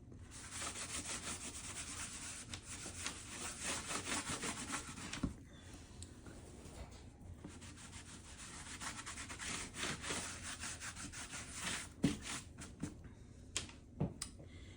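Light rubbing on the surface of a painting during final detailing, a soft, steady scratchy friction heard up close, continuing in irregular strokes with brief pauses and a few faint taps.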